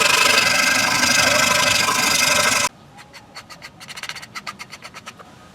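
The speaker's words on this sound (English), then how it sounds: "Now I'm gonna sand it a little bit." A carved wooden shark lure is sanded, starting with a long, steady, loud abrasive rush and then turning to a run of quicker rhythmic rasping strokes, close up with no voices.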